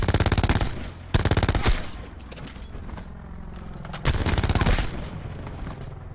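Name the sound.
gunfire shooting barbed wire in Black Ops 4 video game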